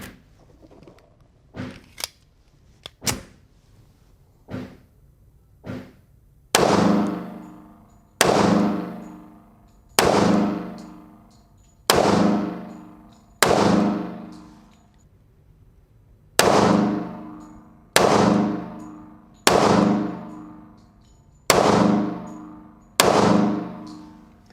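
Pistol shots from a Springfield Armory Ronin 1911 with a custom trigger job, fired outdoors: a few scattered shots, then a steady string of about twelve loud, sharp reports roughly every 1.5 seconds, each with a ringing decay.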